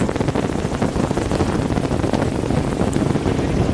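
Wind buffeting a small boat in a shallow bay, a loud, continuous low rumbling roar with gusty turbulence against the microphone, no speech.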